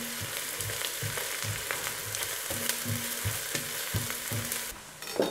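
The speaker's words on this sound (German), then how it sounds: "Die Zwiebeln sind jetzt etwas angebraten. Da kommt jetzt noch Tomatenmark dazu. Und das röste ich dann gerade noch mit an." Onions and tomato paste fry in a pan for Szegediner goulash, a lively sizzle broken by rhythmic scraping stirs with a spoon, close by and moderately loud, without talking.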